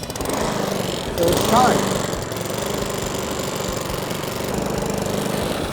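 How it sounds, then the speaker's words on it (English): A brand-new M40C lawn mower engine is pull-started for the first time and keeps running with a steady, loud, continuous drone, with a brief rise near the start. A voice speaks over it. "We pull in the brake lever and then give it a pull."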